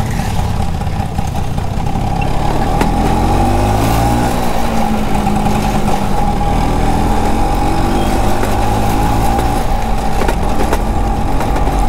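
A 1985 Bajaj Chetak scooter engine runs steadily and loudly for the whole stretch, a close, continuous mid-pitched drone with a buzzing tone and no voices over it.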